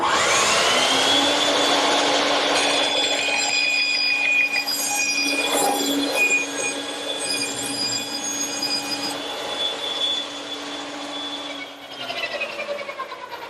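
A saw makes a steady, high, tonal whine for over twelve seconds while cutting a circle from a wood blank pivoting on a radius pin, loud and close throughout.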